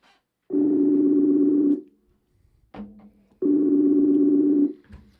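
An outgoing phone call rings during a podcast recording, with two loud, even ringback tones, each lasting a little over a second and separated by a short pause with faint background noise.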